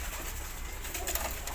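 Domestic pigeons cooing close by, a steady run of soft, throaty calls with no talking over them.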